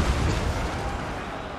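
A single deep, rumbling cannon boom in Total War: Warhammer II, loud and close, its roar decaying over about a second and a half.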